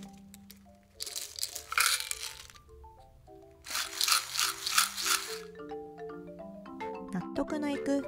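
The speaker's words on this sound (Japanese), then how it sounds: "時々容器の口を塞いで少し揺すり、音の鳴り具合を確認しながら量を調整しましょう。" Grains rattle and crunch inside a homemade shaker container, shaken in two loud bursts of gritty rattling separated by quieter pauses, with soft background music tones underneath.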